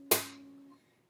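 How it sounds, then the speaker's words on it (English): A single sharp percussive slap across the low bass strings of a guitar played fingerstyle, close and alone, with a bright snap followed by a low ringing tone that fades out within about a second. "Then you're going to slap the big strings"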